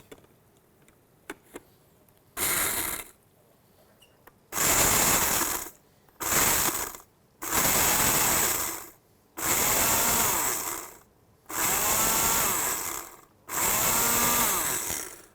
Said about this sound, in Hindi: आपने एक ग्राइंडर में, स्पाइस ग्राइंडर में इसको ऐड कर दिया और इसको टाइट करके आपने